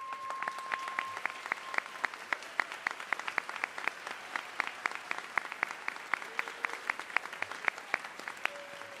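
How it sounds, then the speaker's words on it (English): Sustained audience applause at a high school graduation ceremony, dense rapid clapping from a large crowd that holds steady throughout, heard from some distance in a big hall. "I'd love to give you a round of applause."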